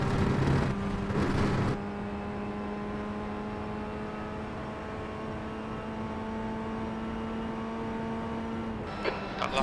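A Formula Ford FF1600 racing car laps Lime Rock Park's Grand Prix layout in iRacing, its engine holding a steady high-pitched drone with a harsh revving burst at the start and a brief gear change near the end.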